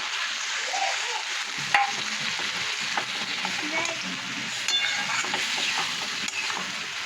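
Fried okra in a pan sizzling loudly and continuously as strained mustard paste is added, with faint clinks and stirring scrapes over the constant hiss.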